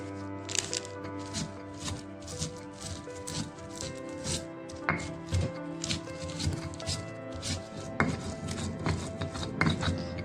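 Steady, rapid scraping and pounding of spices, including kencur and coriander, being ground by hand, a dense rhythmic texture with occasional sharper knocks, close by and fairly quiet.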